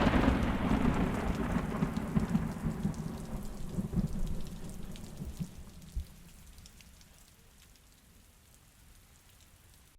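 Steady rain with thunder rumbling, loud at first and then easing and fading toward the end, with no voices.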